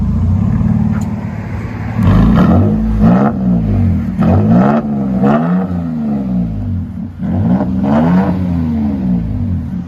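Toyota Tacoma TRD off-road V6, 3.5L, fitted with an aftermarket exhaust, revved repeatedly while parked: loud, close, deep exhaust burble rising and falling in a series of throttle blips about once a second, with no talking.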